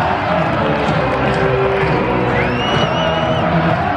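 A large stadium crowd of about 15,000 roars and cheers continuously at a USA v Mexico soccer friendly as a goal is scored, with whoops and shouts rising above the dense, steady noise.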